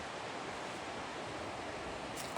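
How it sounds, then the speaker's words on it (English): A flooded creek on the Pinhoti Trail, normally small, rushes fast and high like a river, making a steady, close broadband roar of churning water that fills the whole stretch with no voices. "Right now it's raging like a river."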